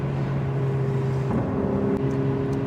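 Ferrari 488 Pista twin-turbo V8 heard from inside the cabin, giving a steady, loud engine drone with a strong low hum that shifts pitch slightly midway, with no talking.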